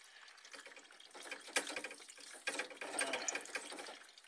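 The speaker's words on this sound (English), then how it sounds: "when you cut the pipe, really, is you just kind of line it up and twist it around" A pipe cutter is twisted around a pipe and tightened on each pass, giving a close, steady scraping and ratcheting metal sound with louder grinding bursts, no voices.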